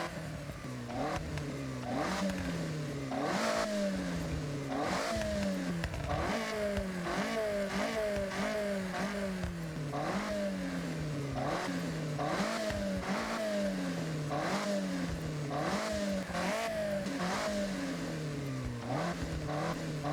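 A Toyota AE86 engine in Forza Horizon revs hard and repeatedly, rising and falling in a steady cycle through gear changes, loud and close with a raspy mid-range tone and no talking.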